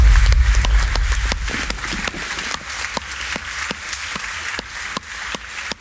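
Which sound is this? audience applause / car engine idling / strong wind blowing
audience applause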